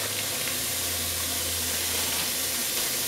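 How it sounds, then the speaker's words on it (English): A constant broadband hiss of ground beef sizzling in a preheated skillet, loud and unbroken, with a low hum beneath it. "throw it in my preheated skillet, so it's going to start sizzling right away"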